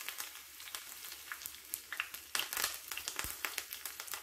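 Curry leaves, dried red chilies, fenugreek and mustard seeds sizzling in hot coconut oil, a steady crackling fry with sharp spits and pops close by, no talk.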